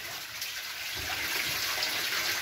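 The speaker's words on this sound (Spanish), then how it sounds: "se saca el café con agua, pero pusimos un tarro para que pase el agua" Water rinses leftover coffee out of a tank and pours through a jar at a coffee and plantain farm, a steady close splashing gush running without pause.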